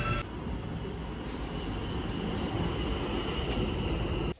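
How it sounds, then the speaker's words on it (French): A New York subway train runs along the track with a steady loud rumble and rattle, with faint squeals of the wheels now and then and an abrupt drop at the end. "First time in the metro, in the subway."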